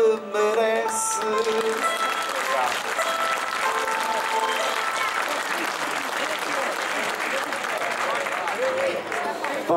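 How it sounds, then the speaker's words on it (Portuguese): An audience at a Portuguese cantoria performance in Ponta Garça breaks into sustained applause after a sung verse, a voice trailing off at the start before thick, even clapping carries on to the end. "Por isso vai dar ao Nordeste as palmas que"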